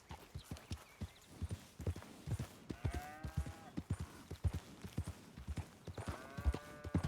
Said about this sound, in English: I don't know why I'm riding my horse when I could just walk to this.